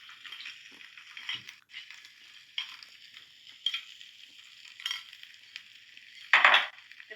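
Steamed, mashed potato is stirred and pressed in a pan with a spoon, giving intermittent scraping and soft squelching strokes at close range, with a louder scrape near the end; no talking.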